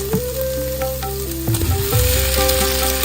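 Masala with chili, turmeric, garam masala and tomato sauce cooks in a pan for macaroni, a continuous close sizzle with occasional stirring scrapes under steady background music.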